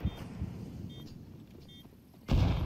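Counter-Strike 2 gunfire: a few low thumping shots over game ambience, ending in a louder close burst.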